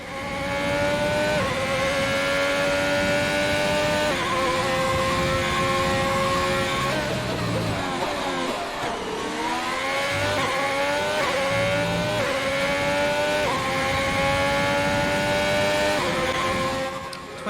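A Ferrari Formula 1 car in F1 2020 screams through a racing lap, its engine note rising through gears in repeated high-pitched climbs. The revs dip under braking and then surge again, loud and close, with no talk over it.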